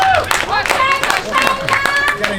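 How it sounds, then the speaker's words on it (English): Crowd clapping at a peaceful outdoor demonstration in Paterson, a brisk burst of many hands applauding close by with voices mixed in. "Round of applause"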